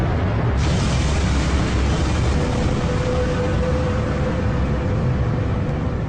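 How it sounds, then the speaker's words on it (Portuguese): A supernova explosion sound effect in a documentary about how the Solar System formed: a loud, continuous roaring rush that swells in at the start and then holds steady and heavy throughout. "Uma possibilidade é que uma explosão de supernova aconteça perto da nuvem."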